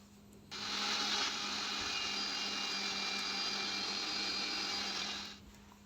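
A blender grinding rice to powder runs steadily with a dense, gritty whir for around five seconds before stopping; fairly quiet and even throughout.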